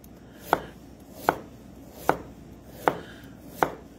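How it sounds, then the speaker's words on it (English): A knife slices potatoes thinly, about an eighth of an inch thick, on a cutting board. Five crisp, even cuts fall at a steady pace, close and distinct over a quiet background, with no talking. "if you're gonna do it with a knife, all you wanna do is you wanna cut them about 1/8 of an inch thick"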